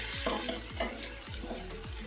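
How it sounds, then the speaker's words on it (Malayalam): Ginger garlic paste sizzles and fries in hot sunflower oil for restaurant-style chilli chicken, with a steady hiss broken by repeated spoon-stirring scrapes in the pan. "സൺഫ്ലവർ ഓയിൽ ചൂടാകുമ്പോൾ അതിലേക്ക് നമുക്ക് 1 ടേബിൾ സ്പൂൺ ഇഞ്ചി വെളുത്തുള്ളി പേസ്റ്റ് കൊടുക്കാം"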